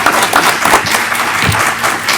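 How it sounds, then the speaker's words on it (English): A school board meeting audience bursts into steady applause and cheering that fills the room for the whole moment, broad and continuous with no speech over it. "We've got a cheering section."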